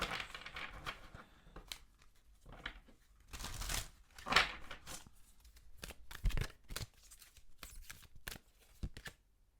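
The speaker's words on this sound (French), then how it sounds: "Je vais commencer par tirer une carte d'oracle." Oracle and tarot cards are shuffled and drawn at a quiet table, giving soft riffling bursts, light slaps and small taps scattered through the moment, close but faint.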